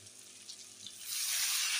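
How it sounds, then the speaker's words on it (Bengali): Water poured into a pan of chapila fish curry with stirred eggplant, starting as a soft trickle and swelling after about a second into a louder, steady hissing rush that holds to the end. "এবার আমি এর মধ্যে জলটা দিয়ে দেবো।"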